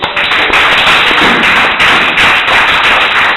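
A church congregation claps for the Lord Jesus in loud, continuous rhythmic applause, pulsing evenly throughout without voices.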